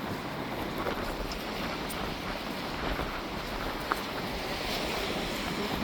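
Heavy rain pours down outdoors on a cold day in Scarborough, Canada, with gusting wind; a dense, steady hiss runs unbroken and fairly loud throughout, with no talking.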